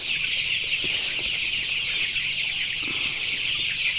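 Colour bird chickens, about nineteen days old, clucking and cheeping in a crowded poultry house, a dense continuous chorus of many birds with a few individual calls standing out.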